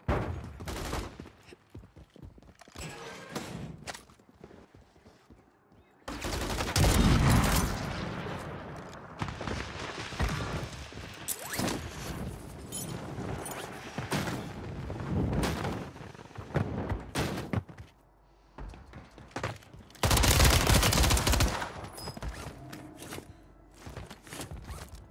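Gunfire in the video game Warzone 3, repeated bursts of shots and heavy volleys, near and loud in stretches, with quieter gaps and footsteps between.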